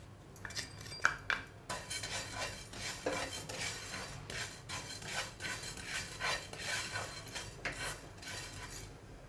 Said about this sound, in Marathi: आता ही बडीशेप भाजून घेऊया